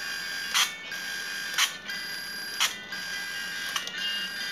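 Song music leaking faintly from an earphone whose wire acts as an antenna near a radio-controlled transmitter, heard as a thin, tinny steady tone with four brief brighter bursts spaced about a second apart, alone without talk.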